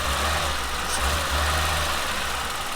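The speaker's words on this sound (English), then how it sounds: "watch the reaction time of the engine revving up" BMW E30 engine running close by, a steady low rumble at near-idle with only a slight swell in revs partway through, alone with no talking.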